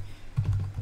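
A brief cluster of a few computer keyboard keystrokes, quiet and close, as a command is typed on a Windows 11 PC.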